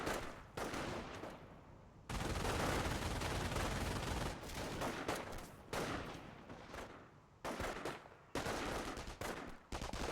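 Rifle and machine gun fire from Company of Heroes crackles in dense, repeated bursts of gunfire that rise and fall with short gaps, with no talking.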